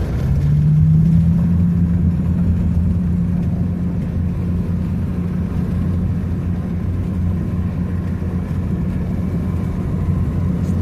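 A car rolls along a dirt roadway near Enterprise, Utah, its engine and tire rumble a loud, steady low drone throughout with no talk.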